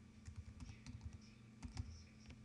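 Quick keystrokes tap on a computer keyboard as a folder name is typed, a close, soft run of irregular clicks with brief pauses, no voices.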